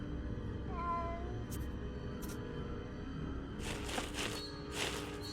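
A cat character in the LEGO Harry Potter: Years 1-4 video game gives a couple of short meows over steady game music and ambience, with some brief bright effects near the end.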